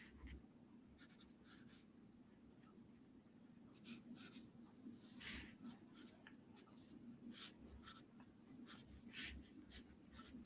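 A pencil moves across paper in soft, quiet scratchy strokes, irregular bursts of close scribbling over a low background hum.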